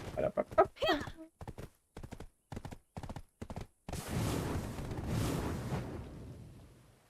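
Horse hooves gallop in the online game Black Desert, a run of sharp rhythmic clip-clop beats followed by a loud rumbling crash as the horse falls, with no talk over it.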